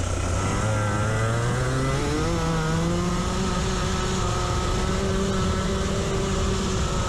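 A racing kart engine held at full throttle during a race at Whiteriver: a loud, buzzing two-stroke drone that climbs in pitch, dips briefly, then climbs again and holds high, with no talk over it.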